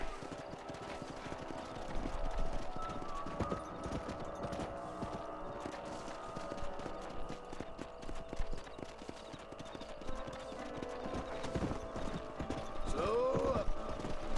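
Horses clip-clop and run in the Red Dead Redemption video game, with steady hoofbeats throughout, a whinny near the end, and background music and voices.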